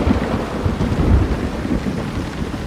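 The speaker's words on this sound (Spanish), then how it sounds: "Está lloviendo a cántaros" Heavy rain pours steadily during a thunderstorm, with deep rumbling thunder rolling underneath and swelling near the middle, a continuous loud wash with no voices.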